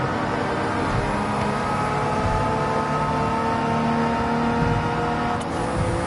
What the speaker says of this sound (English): the revs are going way higher on the reciprocating engine versus the rotary